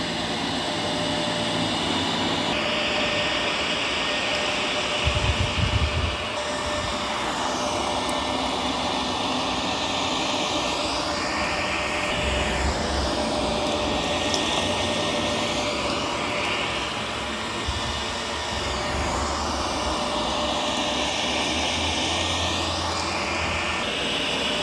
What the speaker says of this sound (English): I'm going to have it start cleaning carpet